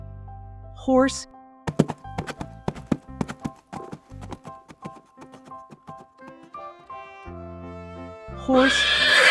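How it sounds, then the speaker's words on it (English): A cartoon horse whinnies twice, once at the start and once at the end. Between the whinnies, a rapid run of sharp hoof clip-clops fills the middle, all set against a light background music bed. "horse."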